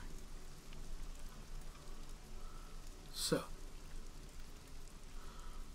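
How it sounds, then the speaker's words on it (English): Rain falls on a barn in a steady soft patter, fairly quiet and continuous, broken by a brief sharp knock or thud partway through, with a few low voices murmuring. "The sounds of rain seem to be louder up here"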